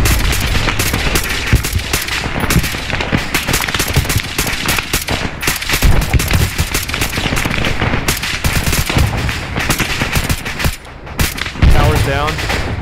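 Dense, continuous automatic gunfire and explosions in an Arma 3 night firefight, with anti-tank launcher fire mixed into the relentless roar, loud and close with scarcely a pause.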